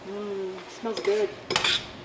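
Lettuce wrap filling stirred in a pan with a peanut sauce of peanut butter, honey, vinegar, oil and soy sauce, giving a few brief scraping and clinking bursts against the pan, close and fairly loud, with a tonal hum early on.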